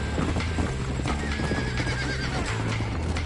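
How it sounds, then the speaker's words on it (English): Horse in the video game Red Dead Redemption, loud close clip-clop of galloping hooves with a neigh, continuous and with no talk over it. "That dude just got kicked off his horse."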